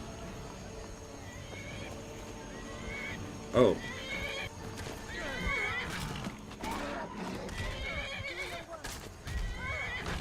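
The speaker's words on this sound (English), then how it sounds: "Also, I hear a horse fighting or something." A horse whinnies amid game sound in Skyrim Special Edition, with a sharp loud call near the middle and fainter agitated neighs and hoof sounds, and a person talking over it.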